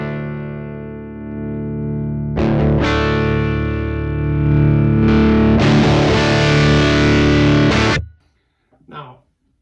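A heavily distorted electric guitar through a Tech 21 SansAmp PSA 2.0 preamp sustains a thick, saturated chord, then is restruck with harder gain crunch twice before cutting off abruptly, leaving a short faint squeal.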